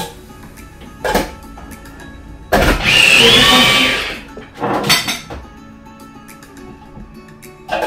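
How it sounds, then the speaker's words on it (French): A blender whirs through homemade chili paste with ginger and garlic: a short pulse, then a loud, steady grinding run of about a second and a half, followed by a couple of briefer pulses close by. "là je viendrai mixer encore ma pâte"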